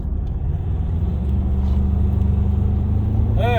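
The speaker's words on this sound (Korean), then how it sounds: "가속을 그냥 확 쳐줍니다" A 2021 Ford Ranger Raptor pickup with a 2.0-litre engine accelerating, a loud, steady low engine rumble heard from close by that builds slightly over a few seconds.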